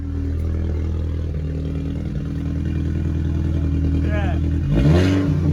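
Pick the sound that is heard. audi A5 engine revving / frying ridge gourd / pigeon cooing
audi A5 engine revving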